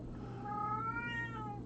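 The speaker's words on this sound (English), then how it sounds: "Someone gave us a noisy Burmese cat instead of a quiet Burmese cat." A Burmese cat lets out a single drawn-out, rising-then-falling meow, close and clear over a low steady hum.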